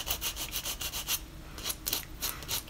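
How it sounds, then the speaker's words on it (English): The coarse side of a nail buffer is rubbed briskly across damaged fingernails, making close, rhythmic scratchy strokes in quick bursts with a short pause in the middle and no talking. "I would buff your nails quite probably with the most coarse side"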